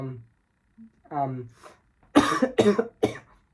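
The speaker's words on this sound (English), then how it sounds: "sorry, I just coughed actually." A person speaks briefly, then coughs sharply three times in quick succession, close to the microphone.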